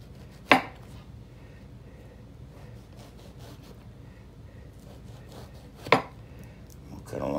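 A kitchen knife cuts the thick peel and pith off a citrus fruit on a board, two sharp close chops standing out over a quiet background, with no talking.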